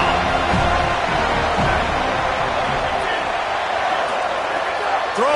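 A home crowd in an NCAA football video game, FSU vs Miami, roars as a steady, dense wall of cheering that fills the whole moment.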